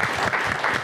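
A studio audience applauds at a televised evening programme from Gomel, a brief burst of dense, steady clapping without pauses.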